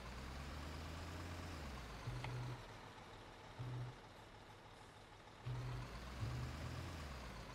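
A construction vehicle drives around in Construction Simulator 2015, its low engine rumbling quietly and steadily, with short beeps and air-brake hisses breaking in now and then, and no talking.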